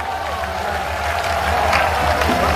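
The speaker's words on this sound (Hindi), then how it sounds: "दोनों हाथ ऊपर उठाकर जोरदार तालियां के साथ" Loud, dense clapping from the crowd at a Hindi comedy show held at a Veer Tejaji temple, sustained and steady over a low hum, with some faint background voices mixed in.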